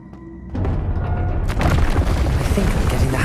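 A Depulso force spell from the Hogwarts Legacy video game, played on a live stream, lands as a dense, sustained whooshing burst that rises suddenly and stays loud and rough for several seconds, heard without speech.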